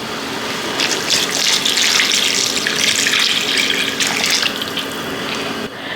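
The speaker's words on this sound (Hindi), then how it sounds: "अब हम इसमें बाकी का 1 लीटर पानी और मिला देंगे।" A litre of water gushes steadily into a cooking pot of Lahori mutton paya, a loud, close, continuous pour lasting several seconds before it cuts off near the end.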